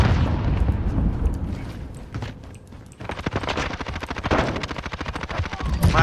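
In a shooter video game, an AK fires rapid close-range bursts that crack sharply and densely, with a short lull before the shooting resumes louder.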